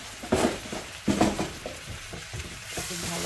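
Chickpea dal masala with Kashmiri chili, coriander and cumin is stirred and fried in a pan, with steady close sizzling broken by a few scraping stirs and soft clinks of the utensil against the pan.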